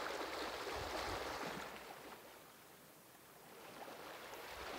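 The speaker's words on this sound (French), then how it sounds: "le son apaisant des vagues." Sea waves wash in a broad, soft rush that swells and ebbs slowly, faint and distant, with no voices.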